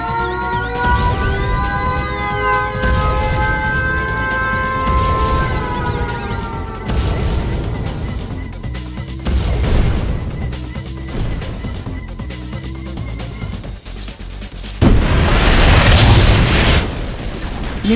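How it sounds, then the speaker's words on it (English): Nuclear missile strike in Red Alert 2, a heavy rumbling blast that swells into a loud, sustained roar and crashing debris, preceded by a tonal alarm-like drone. "Warning, nuclear missile launched."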